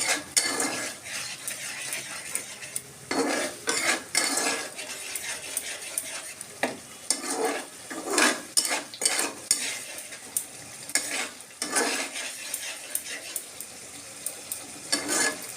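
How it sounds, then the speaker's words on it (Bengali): A spatula scrapes and clinks in rhythmic bursts as sugar is stirred into a hot pan of oil and sour curd, with a soft sizzle running underneath and no speech. "এখানে একটু চিনি অ্যাড করে দিলাম, দিয়ে নাড়তে থাকবো"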